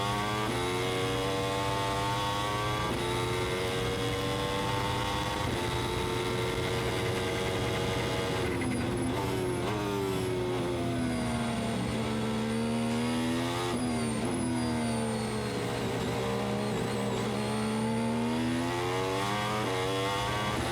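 An F1 car accelerates hard on the Silverstone circuit, its high-pitched engine screaming loudly and continuously as revs climb through repeated gear changes.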